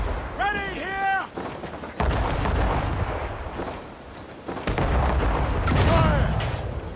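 Ship cannons boom in a naval battle in Assassin's Creed Rogue, heavy blasts rolling under a dense, continuous battle din, with shouting voices breaking through over the gunfire.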